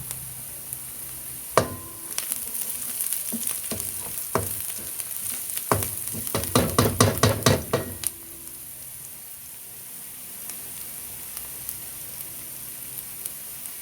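Garlic and chicken sauté in a pan for arroz caldo: a steady, close sizzle, a burst of clattering stirs in the middle, then quieter frying alone.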